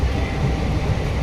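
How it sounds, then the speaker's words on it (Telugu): A low-budget passenger train pulls away, a loud, steady low rumble of the carriages heard from inside. "రైలు కదిలింది, ఇప్పుడే కదిలింది"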